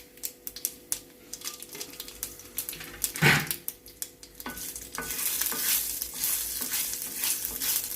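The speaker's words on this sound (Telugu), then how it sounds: "పోపు వేగిందండి, స్టవ్ ఆఫ్ చేసేస్తున్నాను." Tempering of urad dal and spices for a drumstick-leaf chutney: clicks and scrapes of stirring in a pan, then a steady, close frying sizzle that swells in the second half.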